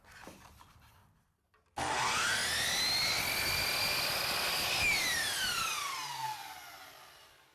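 Miter saw cutting polyurethane baseboard molding, a sharp whine as the blade spins up and bites in, holding a loud steady cut for several seconds before winding down with a falling pitch.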